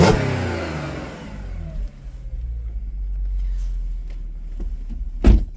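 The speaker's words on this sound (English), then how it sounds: "It's got a really lovely raspy sound to the exhaust." A 2015 Audi S5 Quattro Cabriolet's exhaust gives a raspy blip at the start, then settles into a low rumbling idle that fades, with a sharp click near the end.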